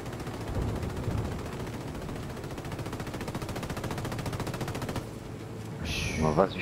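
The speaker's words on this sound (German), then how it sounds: "Aber der Helikopter schießt ganz schön beschissen" Helicopter gunfire in Ghost Recon Wildlands: a long, rapid, evenly spaced machine-gun burst runs for about five seconds, then cuts off, leaving quieter game sounds and a brief louder rush at the end.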